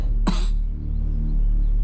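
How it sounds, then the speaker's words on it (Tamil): A man coughs once, loud and close, a single harsh burst followed by quiet room tone. "காலையிலேருந்து ஒரே இருமல்"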